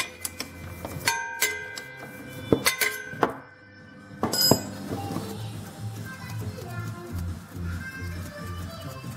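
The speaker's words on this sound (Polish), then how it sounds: "odkręcimy sobie korek wlewowy, żeby nam szybciej i łatwiej olej spłynął ze skrzyni" A wrench clinks against metal while the gearbox oil filler plug of a quad ATV is loosened with a 17 mm spanner: a few sharp metallic clicks and ringing taps early on, then quieter fiddling and faint rustle.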